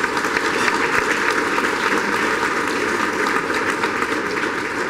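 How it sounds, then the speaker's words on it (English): Steady, dense applause from a breakfast audience at an annual business awards event, loud and continuous for the whole stretch with no voices over it. "Let's give them applause."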